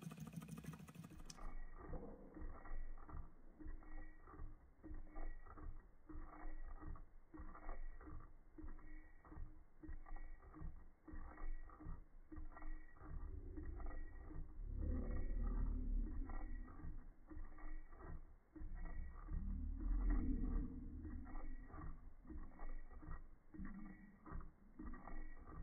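A small Stirling engine kit with a glass cylinder runs steadily, giving a fast, even, faint mechanical ticking and whirring that repeats throughout with no talk.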